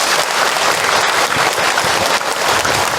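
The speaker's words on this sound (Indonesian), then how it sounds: "Tepuk tangan untuk kita semua." Loud, dense audience applause at an Islamic lecture, a continuous wash of many hands clapping with no break, filling the room.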